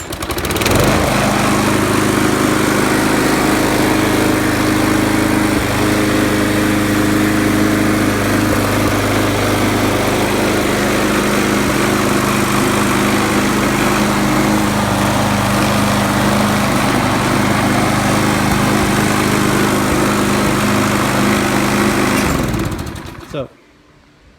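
A Troy-Bilt lawn mower with a Kohler engine and a worn deck runs loud and steady at a freshly adjusted throttle, its close, even drone continuing for over twenty seconds before cutting off abruptly.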